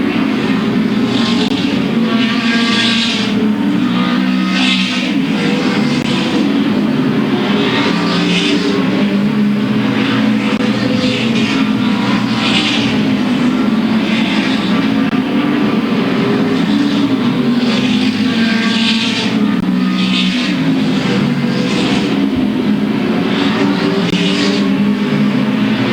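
Late model race cars roaring around Louisville Motor Speedway, a continuous loud pack of engines droning and surging as cars pass, with no letup throughout.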